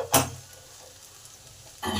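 A spatula stirs okra and potatoes frying in a pan, with two short scraping bursts at the start and end and a low steady sizzle between them.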